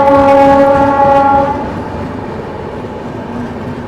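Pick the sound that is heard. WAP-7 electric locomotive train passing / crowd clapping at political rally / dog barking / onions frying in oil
WAP-7 electric locomotive train passing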